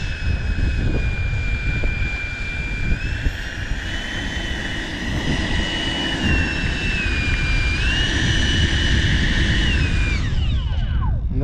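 A Sebart Fiat G-91 electric ducted-fan model jet flies past in gusty outdoor wind, its steady high whine holding continuously, dipping and rising in pitch as it banks, then fading and sweeping away near the end over constant wind rumble.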